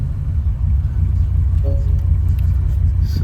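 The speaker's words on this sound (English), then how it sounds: "I can turn the key and start the car." 2010 Porsche Panamera S engine running after starting, a loud steady low rumble with a brief faint tonal whine partway through, no voices.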